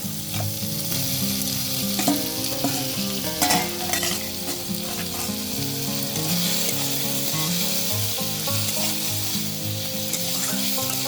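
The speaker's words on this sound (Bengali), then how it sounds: "চিকেন কুচি কুচি করে কেটে নিয়েছি এবার এটা দিয়ে দেবো দিয়ে এবার আমি একসঙ্গে ভালো করে কষিয়ে নেব" Chopped chicken and fried potatoes sauté together in a pan for chicken ghugni. A loud, continuous sizzle and frying hiss runs throughout, with scraping and stirring strokes of a spatula close up.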